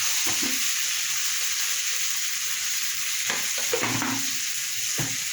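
A spice masala with Kashmiri chili powder and a little sugar fries in oil, a continuous close sizzle broken by a few scraping stirs near the end.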